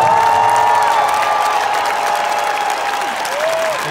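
Audience applause and cheering at a concert in Friends Arena, a dense, continuous roar of clapping from a large crowd with scattered whoops, steady and loud throughout.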